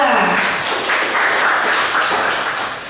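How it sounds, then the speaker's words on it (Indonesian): An audience applauding a presenting group at a training session on artificial intelligence, a steady wash of clapping from many hands lasting a few seconds before fading slightly. "beri applause dulu untuk kelompok 2"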